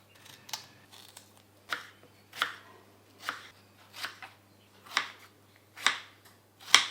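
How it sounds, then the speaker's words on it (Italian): A knife chops freshly washed strawberries into small pieces on a kitchen board, about ten crisp separate cuts in an uneven rhythm. It is close and fairly quiet, with no voices. "le taglio a pezzettini."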